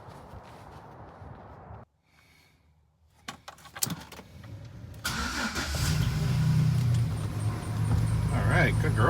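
A car engine started on a cold morning: keys jangle and a brief quiet follows, then a few clicks and the crank as the engine catches and settles into a loud, steady idle.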